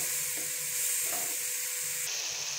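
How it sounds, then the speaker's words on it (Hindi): Masala with tomatoes frying in a pan for an aubergine and potato dish, a steady close sizzle with faint stirring scrapes and no voices. "जब तक ये टमाटर जो सॉफ्ट ना हो जाए और मसाला अच्छे से फ्राई ना हो जाए"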